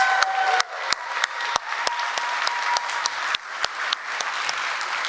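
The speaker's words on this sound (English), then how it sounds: "Give them a huge round of applause." Conference audience at Codegarden 2023 applauds the events team onstage, a steady wash of clapping with a few sharp louder claps standing out near the microphone.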